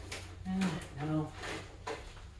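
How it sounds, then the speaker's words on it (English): Someone digs through a cluttered junk drawer, with short knocks and rattles of small loose objects, while someone talks over the rummaging. "time to tear the junk drawer apart."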